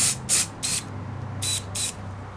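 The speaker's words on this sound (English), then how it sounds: "Now I'm just going to hit this with a little bit of activator." Glue activator sprayed onto a wood ring blank in five short hissing bursts, the first two quick together and the rest spaced apart, close and loud over a low steady background hum.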